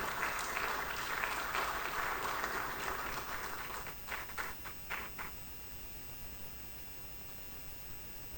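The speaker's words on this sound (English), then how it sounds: "Ladies and gentlemen, with a clapping offering, please let's welcome Dr. Justina." Audience at the opening ceremony of an executive dialogue applauds to welcome a speaker, fairly faint and distant, a dense patter that thins into a few scattered claps before fading out.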